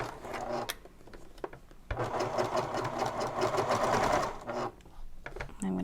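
A sewing machine fitted with a Teflon presser foot stitches through vinyl for a messenger bag, starting with short stop-start bursts before settling into a longer loud, close, continuous whirring run.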